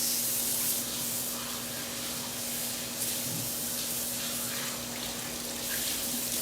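Hands being scrubbed with soap under a running tap: a steady, close hiss of flowing water with faint splashing and rubbing, unbroken throughout.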